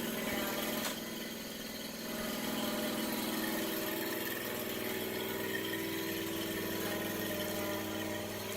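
Riding lawn mower engine running steadily at a constant throttle, a continuous droning hum with a faint mechanical rattle, close by and without talk.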